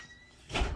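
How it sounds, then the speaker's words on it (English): A door is shut once, giving a single loud thud near the end after a stretch of quiet room tone. "let me shut the door"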